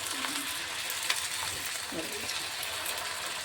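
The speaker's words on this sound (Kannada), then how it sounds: "ಅದು ಎಣ್ಣೆ ಒಳಗೆ ಹೋಗಿ ಒಂದು ಸ್ವಲ್ಪ ಫ್ರೈ ಆದ್ರೆ ಸಾಕು" Food sizzles steadily in hot oil, a soft continuous crackle with a few faint clinks, low in level, with no talk over it.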